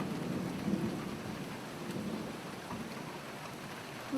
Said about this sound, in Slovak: No, ona bude asi aj búrka